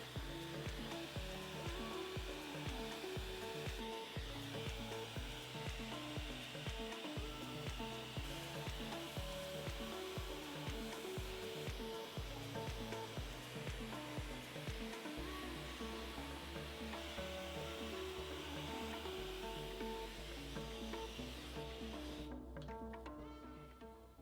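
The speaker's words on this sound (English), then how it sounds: "with our larger hairdryer, we're going to start blow drying our hair outwards to create that very signature" A large hair dryer blows a steady loud roar close by while hair is dried outwards for a blowout, with a rhythmic brushing pattern running beneath it and a drop in pitch partway through.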